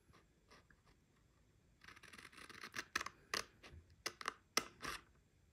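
Scissors cut pieces of material close up during a sublimation wine tumbler wrap project, starting with faint scattered snips and building into a quicker run of sharp, crisp cuts near the end.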